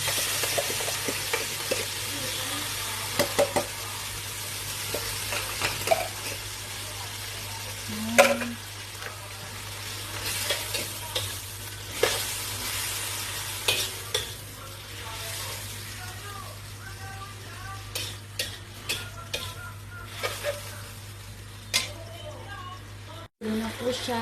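Corned beef sizzles steadily in a pan for a long stretch, broken by repeated scraping and clacking stirs at close range, with a person speaking quietly now and then.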